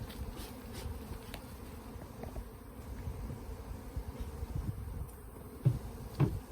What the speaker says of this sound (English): you got bees all over you